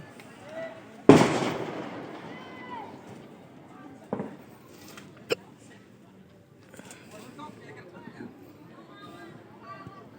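Firecrackers going off outdoors, one loud close bang followed by several smaller, sharper pops at irregular intervals, with people talking in the background.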